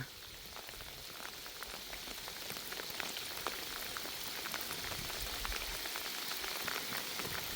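Heavy rain pouring steadily outdoors, a dense continuous hiss of drops that swells slightly louder over time, with no talk.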